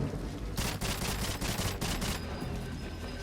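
Rapid gunfire from GoldenEye 007 on the Wii, a dense run of loud shots in bursts lasting a couple of seconds, then tailing into a steady background din with no talking.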